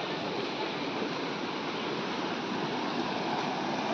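Flowing stream water in the Kolli Hills, a steady, loud rushing wash of water that stays even and unbroken from start to finish.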